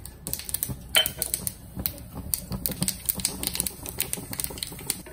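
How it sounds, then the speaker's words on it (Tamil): Mustard seeds spluttering in hot oil in a pan for a chana dal chutney tempering, a dense run of sharp, irregular crackles and pops that keeps going steadily at close range. "கடுகு போட்டிருக்கேன், நல்லா பொரியணும் கடுகு."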